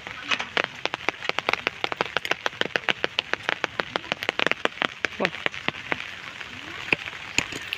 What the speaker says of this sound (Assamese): ইমান বৰষুণ বতৰ, গৰু আহিবলৈও দিগদাৰ হৈছে।